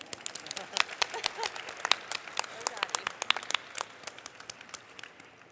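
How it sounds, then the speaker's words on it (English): A closing-ceremony audience gives a round of applause, a steady patter of many hands clapping at close range for several seconds, with talk murmuring underneath. "Can we have another round of applause in the meantime?"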